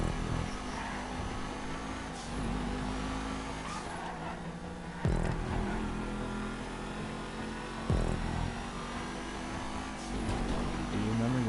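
Street race in GTA: a game car's engine drones and revs, with gear-shift pitch sweeps and bursts of acceleration, while a player talks over it.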